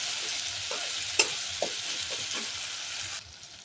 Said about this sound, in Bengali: এতে পেঁয়াজ, আদা, রসুন আর টমেটো দিয়ে টমেটোটা একটু কষিয়ে নিচ্ছি